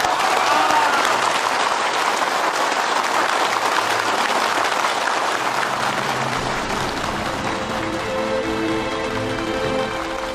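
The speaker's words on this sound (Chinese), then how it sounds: "大家掌声欢迎！" Wedding guests applaud in a steady, dense burst of clapping from a crowd that fills the room, softening slightly toward the end while a low musical tone enters underneath.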